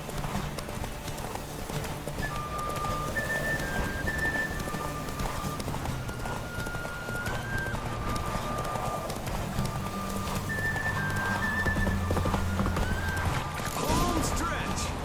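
Roach, Geralt's horse in The Witcher video game, gallops with steady clip-clopping hooves across the whole stretch, and a brief whinny is heard under game music and chatter.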